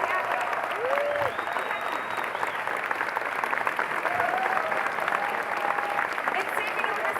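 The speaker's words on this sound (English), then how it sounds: "Huge round of applause" Steady, dense applause from a large crowd at a Hideo Kojima interview at EGX 2019 fills the whole stretch, with a few faint voices and whistles rising above the clapping.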